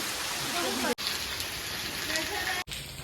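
Heavy rain pours down in a dense, continuous hiss, interrupted by two brief dropouts, with faint voices underneath.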